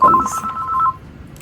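An incoming call rings on a phone, a loud, close, rapid electronic trill that lasts under a second and then stops.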